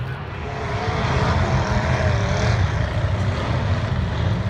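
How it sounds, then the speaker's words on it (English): Loud, steady roar of alcohol-burning demolition derby car engines running together without a break, thick and rumbling throughout, in Nephi, Utah. "Listen to those motors roar, burning the alcohol."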